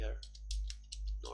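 Quick computer keyboard typing, a short run of light clicks and taps at close range, spread across a brief moment in a quiet room.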